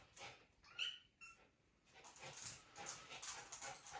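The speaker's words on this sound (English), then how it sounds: "And my dog goes crazy off the back of it." An excited dog pants and whimpers in faint, quick bursts close by, with a brief higher yelp near the start and no talking.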